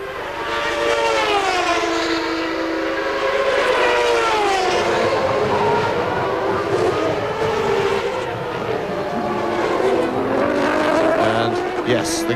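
A McLaren-Ford Formula 1 car at the 1993 Canadian Grand Prix screams at full throttle to about 13,000 rpm, its high whine rising and dropping through gear changes under steady commentary.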